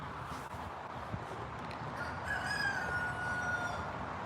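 Rooster crowing at a garden chicken coop, the harmonic call rising faintly in the second half over steady outdoor background noise, with other chickens around.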